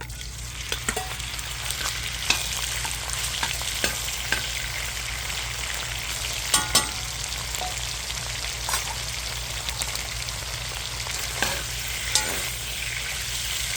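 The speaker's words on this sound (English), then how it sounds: "Alright, so we're going to get our pork jowl bacon in here. Get this fat rendered down." Pork jowl bacon frying as its fat renders in a pan, a steady close sizzle with sharp crackling pops, some louder spits scattered through.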